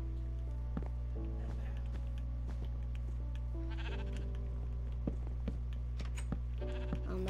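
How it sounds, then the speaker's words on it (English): Sheep bleat repeatedly in the blocky Minecraft video game world, short nasal cries at intervals over a steady low game hum, with a few soft footstep clicks between them. "Ah, sheep."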